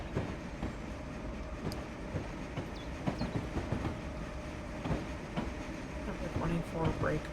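A CSX freight train in a train simulator pulling clear of a terminal lead, with a steady rumble, rhythmic wheel clicks, and faint squeals building over several seconds while someone talks over it.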